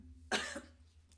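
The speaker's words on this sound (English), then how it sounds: "I just had that cough come from nowhere." A single sharp cough, close and loud, that quickly fades over a faint steady hum.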